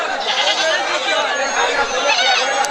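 A busy crowd of buyers and sellers murmurs and chatters at a goat market, with native goats bleating faintly among the voices.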